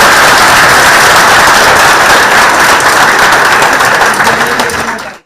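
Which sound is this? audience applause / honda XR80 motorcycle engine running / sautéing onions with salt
audience applause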